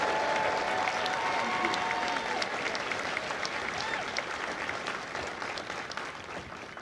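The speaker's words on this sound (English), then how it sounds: "please join me in a well-deserved round of applause for the drill instructors and spouses and families" Sustained applause from a large crowd at a Marine Corps recruit graduation at MCRD San Diego, broad and even, heard from a distance in an open setting and tapering slightly toward the end.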